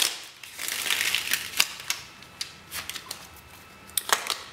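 Tarot cards are shuffled by hand in quick, close bursts of crisp flicking and slapping clicks, with short pauses between handfuls and no talking.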